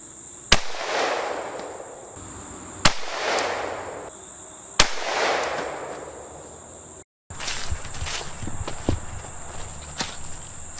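Three sharp .22 Magnum gunshots crack out at a bulletproof vest at roughly two-second intervals, each with a ringing tail, followed by fainter rustling and crackling outdoor noise amid a steady insect-like hiss.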